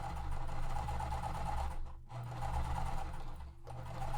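A sewing machine stitches a quilt block seam with a full quarter-inch seam allowance. It runs in a steady, close mechanical whir, broken by two short pauses.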